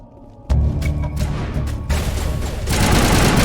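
Weapon fire in Mass Effect Legendary Edition: a dense, loud burst of rapid shots kicks in abruptly and keeps going, growing heavier and fuller toward the end, with no talking over it.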